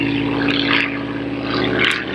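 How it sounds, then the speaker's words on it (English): A propeller airplane drones overhead outdoors, a steady loud engine hum with a low tonal buzz that swells slightly as it passes, filling the whole stretch. "thanks, airplane, for coming along and creating a lot of noise"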